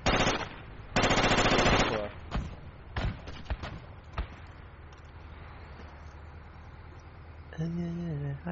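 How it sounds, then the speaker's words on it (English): Gunfire crackles through a Project Reality firefight: loud sustained machine-gun bursts open the scene, followed by scattered single shots and distant pops, then an engine-like drone at the end. "I'm seeing people firing toward that observe marker"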